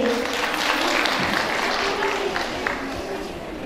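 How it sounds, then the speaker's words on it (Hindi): Audience applause at an International Women's Day ceremony, steady broadband clapping from a crowd for about four seconds at moderate level, with some speech faintly mixed in. "जोरदार तालियां इनके लिए।"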